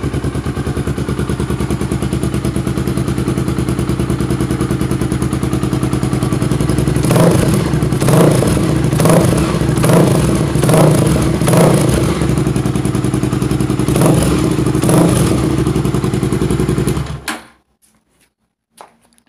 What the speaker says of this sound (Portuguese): Vou dar uma ligadinha nela para vocês verem o ronco dela certinho.